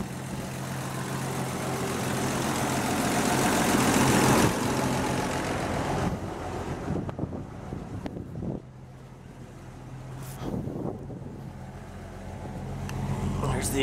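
An engine idles with the choke pulled out, running smooth and steady without shaking: a continuous low hum close by, with rougher wind buffeting over the microphone in the first few seconds.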